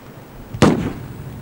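A single sharp gunshot cracks out loud and close over a low background hiss, then decays quickly.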